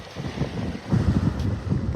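Wind gusts across the microphone at Vanderbilt Beach in North Naples, Florida, on a blustery morning, with a steady rushing roar and faint surf underneath.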